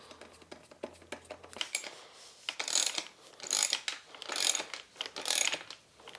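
A torque wrench or ratchet clicks in repeated bursts while tightening super lightweight alloy gravel bike cranks, with close, crisp pawl clicking, brief pauses between strokes and rising effort toward the end.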